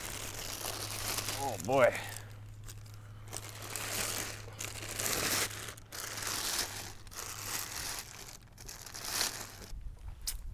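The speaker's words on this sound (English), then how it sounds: "You got nice plastic wrapping." Plastic wrapping around a 2022 BackFire Zealot S electric longboard crinkles and rustles in short bursts close by while someone talks over it and exclaims briefly.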